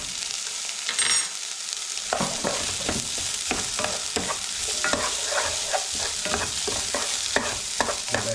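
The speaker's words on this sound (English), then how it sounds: "I'm just going to whiz that garlic around there for a minute" Garlic sizzles among translucent onions in a pan while a utensil stirs and scrapes through it in quick, uneven strokes. The frying hiss is steady and close, with no talking.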